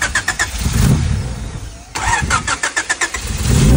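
A Honda Civic EG engine, left abandoned for two years, starts and revs hard in a loud, close burst, cuts out briefly, then catches again with pulsing throttle blips and rising engine roar.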